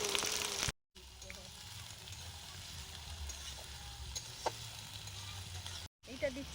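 Chopped onion sizzles in hot oil alongside sugar, two dried red chillies and whole garam masala for a desi chicken curry at a winter family picnic. The frying crackle is soft and steady, with a few brief stirring clinks and short cuts in the sound.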